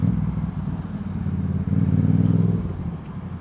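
A Yamaha MT-07 motorcycle engine running with a deep, throbbing exhaust note that swells into a stronger rev partway through, loud and close, with no voices.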